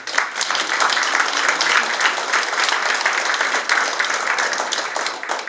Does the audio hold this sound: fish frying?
no